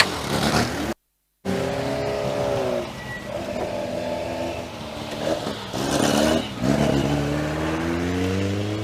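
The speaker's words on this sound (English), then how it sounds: "Cars still making their way back into the paddock." Classic racing cars at Castle Combe circuit rumble back into the paddock, several engines idling and revving nearby with rising and falling tones, a brief cut to silence near the start.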